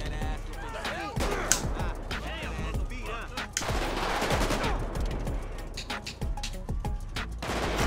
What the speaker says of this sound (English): Damn, they shooting it up already